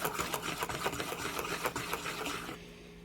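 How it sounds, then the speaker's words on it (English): Pancake batter made from pancake mix being whisked briskly in a bowl, a steady close scraping rattle with quick repeated strokes that drops away near the end. "Add 1½ cups of pancake mix, like Bisquick or whatever pancake mix you'd like to use, and whisk well to combine."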